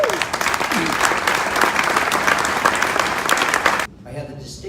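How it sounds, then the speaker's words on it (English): Award ceremony audience gives a sustained round of applause for honorees, dense loud clapping from a crowd that cuts off sharply near the end, followed by brief quieter room sound. "You can do a little round of applause for them."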